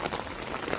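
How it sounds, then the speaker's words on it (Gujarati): Heavy, steady rain pouring down on a road where cars sit stuck in traffic on the way from Surat to Lonavala, a dense continuous wash of noise with no talk. "4 કલાકથી આ રીતનો કંઈક વરસાદ છે"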